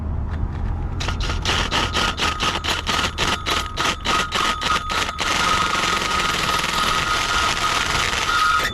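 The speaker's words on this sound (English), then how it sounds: "Let's get a hole saw going" A hole saw chews through a metal traffic light housing in a rapid run of rattling, scraping bursts for several seconds. Then it settles into a continuous grinding whine, loud and close.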